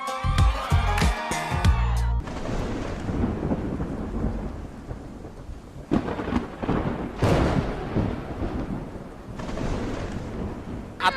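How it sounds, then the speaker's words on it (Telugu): A heavy thunderstorm lets loose sharp cracks of thunder over a dense, continuous hiss of heavy rain. Some brief musical sound plays at the start, and the rain and thunder carry on loudly after it. "వర్షం బాగా ఎక్కువ వచ్చేలా ఉంది"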